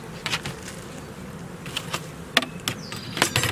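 Honey bees from a newly installed package buzz around a homestead hive in a steady hum, with scattered clicks and handling noises mixed in nearby.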